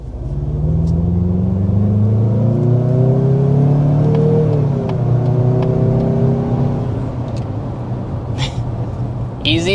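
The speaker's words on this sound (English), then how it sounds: "we need to start with a hard acceleration" A 2026 Mazda CX-50 turbo accelerating hard, its engine note climbing steadily through the gears with rising harmonic sweeps and a loud, constant rumble for most of the run, easing off toward the end.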